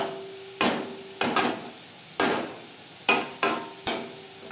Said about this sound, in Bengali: লো ফ্লেমে তিন চার মিনিট নাড়াচাড়া করে নেব